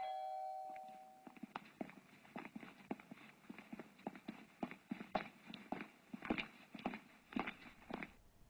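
A short electronic doorbell chime rings at the start of a dramatized scene, then gives way to a steady run of rhythmic, hoof-like clopping.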